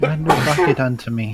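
Person sneezing: one loud, close, drawn-out voiced sneeze that runs together with speech-like vocal sounds.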